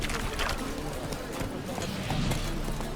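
Roach, the horse in The Witcher 3 video game, gallops with a quick, rhythmic clip-clop of hooves close by, while a voice speaks over the hoofbeats.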